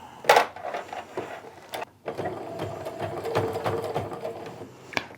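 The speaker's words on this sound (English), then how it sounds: "we're going to stitch back and forth on this several times in order to get that nice and secure" A sewing machine stitches back and forth on a pleated fabric wristlet, running in steady bursts. A short pause breaks the run near the middle, and sharp clicks mark each stop and restart. No one speaks.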